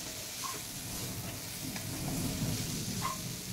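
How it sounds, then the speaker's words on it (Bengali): Sliced okra (bhindi) fries in a pan with a soft, steady sizzle, a faint occasional clink of utensils, heard alone at low volume. "সম্পূর্ণ আমাদের ভেন্ডি ভাজা বা ঢ্যাঁড়স ভাজা হয়ে গেছে"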